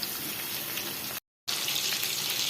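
Prawns with curry leaves fry in a pan for a crispy Kerala-style prawn fry, giving a loud, dense, continuous sizzle that cuts out briefly in the middle and then resumes.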